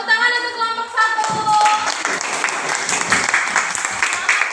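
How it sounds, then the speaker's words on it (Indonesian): A classroom group of students claps in applause for the first presenting group, a dense steady patter of many hands after a brief harmonic tone at the start. "tepuk tangan untuk kelompok 1"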